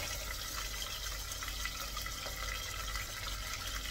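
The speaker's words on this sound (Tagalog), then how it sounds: "Tapos, lagyan na natin ng tubig. Mainit na tubig to." Hot water is poured into a cooking pan after frying, making a steady, faint splashing and rushing pour that runs continuously with no talk over it.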